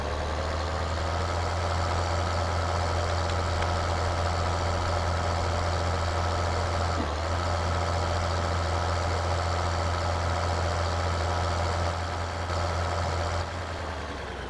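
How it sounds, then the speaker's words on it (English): Tractor engine idling in Farming Simulator, a steady low diesel rumble with a constant drone, holding evenly for the whole stretch with no talk over it. "I'm pretty sure this is the tractor that they have actually kept in the game the entire time."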